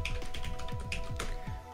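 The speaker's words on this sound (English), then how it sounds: "And I'm going to go ahead and type mine in here." Rapid keystrokes on a computer keyboard as a password is entered, a close, steady run of light clicks and taps heard alone.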